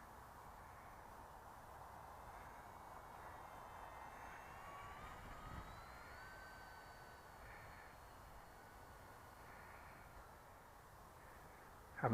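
A Radiolink A560 RC airplane climbs on full throttle, its small motor a faint, steady distant whine that shifts slightly in pitch over a quiet outdoor background for around twelve seconds.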